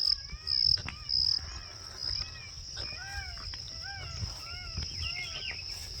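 Outdoors in the Chambal valley during the rainy season, crickets keep up a constant high drone while birds repeat short rising calls throughout, fairly faint and distant.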